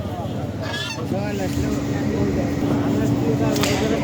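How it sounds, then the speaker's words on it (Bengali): A busy outdoor weekly market in Tebaria, Natore, with ducks quacking and chickens clucking amid crowd chatter and background bustle. "সকালের দিকে প্রচুর পরিমাণে হাঁস মুরগি উঠে"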